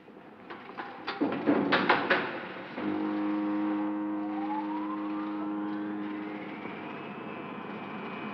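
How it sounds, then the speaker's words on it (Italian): A few sharp mechanical clicks and clanks, then a generator, a film sound effect, hums to life with a tone that rises steadily in pitch before holding. "Metta in moto il generatore."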